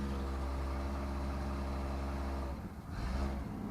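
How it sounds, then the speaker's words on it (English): A six-cylinder engine in an old Chevy Nova idles roughly with a low, throbbing, steady drone, recorded close and fairly quiet, with no speech over it. "the 6-cylinder sounds horrible"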